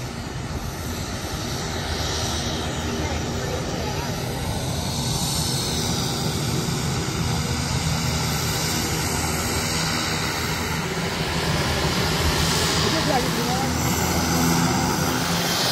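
A crop duster airplane drones steadily overhead above a cornfield, its propeller engine loud and continuous throughout, with a broad rushing roar that swells and eases slightly.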